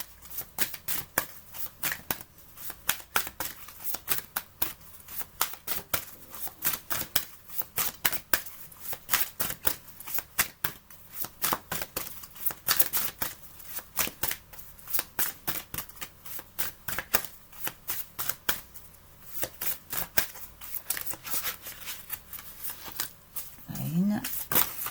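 A deck of oracle cards shuffled by hand in steady, rapid riffling bursts that run throughout, close and crisp, with a brief voice near the end.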